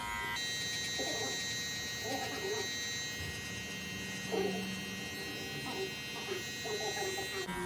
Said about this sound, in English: Now you got the trimmer to take out that bottom line